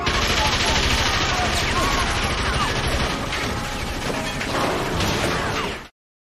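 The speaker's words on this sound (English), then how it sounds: "A Tommy gun!" Rapid Tommy gun fire in the Soul Knight video game, a dense continuous burst of shots with game effects layered over it, loud and sustained for about six seconds before cutting off.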